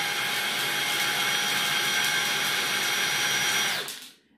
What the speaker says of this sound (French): l'aspirateur continue à tourner sans que vous ayez besoin d'avoir la main sur la petite manette